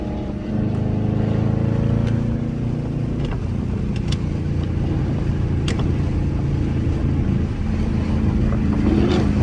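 A Dodge muscle car's engine drones steadily nearby, with occasional sharp crackling pops from the exhaust breaking through the rumble.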